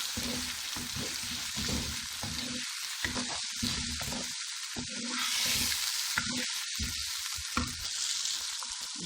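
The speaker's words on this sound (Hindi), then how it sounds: "जीरा और गरम मसाला। इसको अब अच्छी तरह फ्राई कर देंगे।" Cumin and garam masala sizzling and frying steadily in a pan for a Sialkot-style saag with peas, potato and carrot, with occasional stirring scrapes and a continuous close crackle.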